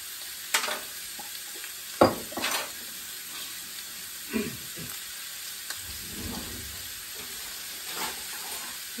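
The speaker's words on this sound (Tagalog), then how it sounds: "ibubuhos na natin yung pineapple juice natin." Pineapple juice poured into a pan of sizzling goat stew, giving soft splashing and stirring over a steady hiss of frying, with a few sharp clatters of a utensil against the pot.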